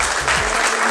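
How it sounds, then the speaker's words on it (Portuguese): Brief burst of audience applause at a rap launch party for a 2016 music video, a dense wash of clapping with low crowd rumble, loud and close, lasting under a second. "Eu gostaria de pedir até uma salva de palmas para vocês mesmos"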